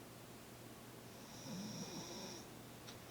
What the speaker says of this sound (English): Hopefully their snores won't affect the video too much